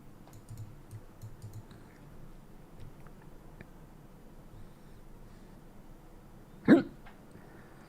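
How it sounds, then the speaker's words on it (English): A single sharp hiccup bursts out near the end, loud and close against a quiet room with faint clicking in the background. "A hiccup."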